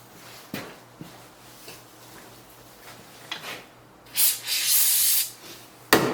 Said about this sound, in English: I'm going to go ahead and spray this down with some penetrant